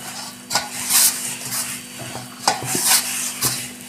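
Millet flour masala rotla dough being mixed by hand in a bowl, soft rhythmic stirring and squelching with a few light clinks, close with a faint steady hum behind, no talk.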